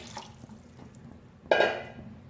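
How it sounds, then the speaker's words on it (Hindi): Water splashes into a pot holding 1 kg of boneless beef for karahi, a sudden burst of pouring after quiet kitchen clatter, close and moderately loud. "पानी शामिल करेंगे 3 गिलास भर के।"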